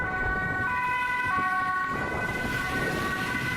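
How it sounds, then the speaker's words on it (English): A loud, nearby European emergency vehicle siren alternates between two tones in a regular hi-lo pattern over a rumble of road traffic. "this is kind of like the go-to stereotype sounding siren"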